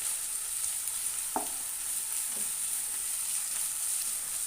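Finely chopped green peas sautéing in a hot pan give a steady, close sizzle and hiss, broken by a couple of soft knocks from stirring.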